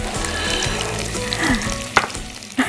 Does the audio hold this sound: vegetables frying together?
yes